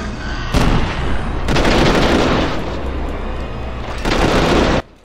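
Loud, close gunfire while shooting monsters in the co-op video game Resident Evil 6: dense sustained bursts of rapid shots that run for several seconds, then a final short burst that cuts off abruptly, with no talking.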